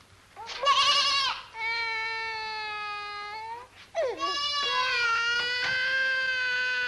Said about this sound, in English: It's got to be a goat.